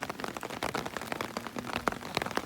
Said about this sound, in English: It was raining when we rolled in, raining when I rolled out.